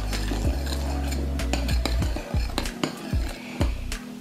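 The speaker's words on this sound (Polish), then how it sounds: "Następnie do miski wlewam piwo i całość wymieszam." Beer poured into a bowl and stirred into a pork-chop marinade, with repeated clinks of utensil against the bowl and soft stirring, fairly close and without talk.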